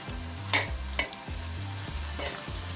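Spinach is sautéed in a pot over medium heat, giving a constant close sizzle. Regular stirring strokes thump underneath, and a few sharp utensil scrapes or clinks against the pot cut through the hiss.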